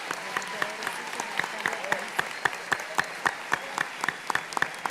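A church congregation applauds at a service, a steady crowd of clapping with sharp individual claps repeating throughout, moderately loud and close, with no speech over it.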